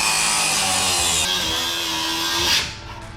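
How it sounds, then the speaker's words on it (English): A cut-off wheel grinds through a non-factory steering column in a Willys Jeep with a loud, continuous high-pitched whine that holds steady for a few seconds, then winds down abruptly. "I'm gonna take a death wheel and cut it off right there"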